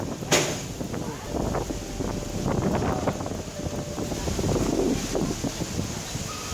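Strong wind buffets the microphone outdoors near water and boats, a steady low roaring rumble with gusty swells, fairly loud throughout and with no clear talk.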